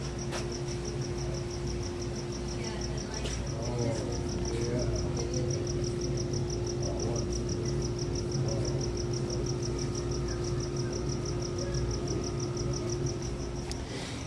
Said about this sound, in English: I think only the male crickets make the noise with their legs.